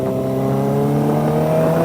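A Kawasaki ZX25R fitted with a Scorpion RP1GP titanium carbon exhaust revs close by with a steady, high-pitched, buzzing drone that holds a constant tone throughout.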